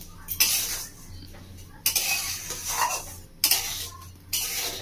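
Salt being stirred and heated in a pan with a metal spatula for roasting cashews, heard as repeated bursts of gritty scraping and clatter separated by short pauses.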